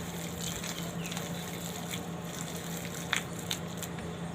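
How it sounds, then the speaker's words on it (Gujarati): Water poured and mixed into potato and khichdi batter for bhajiya, a soft continuous wet squishing and trickling close by, steady throughout with a few faint splashes. "તો હવે આપણે આમાં પાણી નાખશું."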